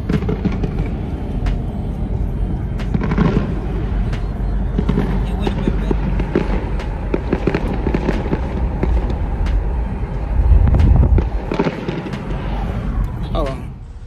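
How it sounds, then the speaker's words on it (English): Fireworks after a baseball game that ran into overtime pop and crackle under a steady crowd roar, with a deeper boom near the end and people talking close by. "There go the fireworks."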